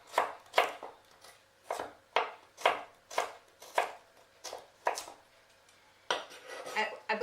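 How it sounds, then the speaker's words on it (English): Knife julienning vegetable stems on a cutting board for a boiled salad with steamed greens: a steady series of sharp, close chopping strikes, roughly one or two per second, with a quicker cluster of cuts near the end. "what I would do is I would julienne all the stem like this"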